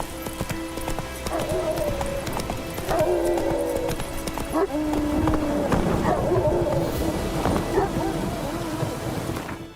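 Geralt's horse Roach galloping in The Witcher 3, steady rhythmic hoofbeats on hard ground close by, with rain-like background ambience and a brief voice.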